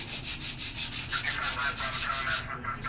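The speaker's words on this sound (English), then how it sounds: "I'll go ahead and probably degrease these a little bit with some Windex or similar product just to get some of the buffing" Drum hoops are wiped down with Windex to strip off buffing grease, giving a quick rhythmic rubbing, close and fairly loud, with repeated strokes over a few seconds.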